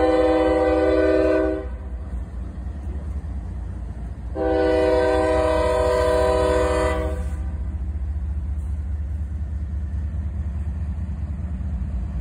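A Norfolk Southern double-stack freight train passes close in Fostoria, Ohio, its loud horn sounding in two long blasts over a steady rumble and clatter of rail cars that continues after the horn stops.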